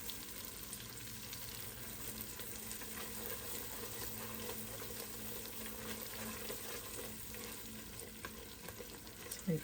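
Cold butter bubbles and sizzles in a pan while being whisked for homemade caramel, a steady, quiet crackling boil with faint stirring sounds and no talking.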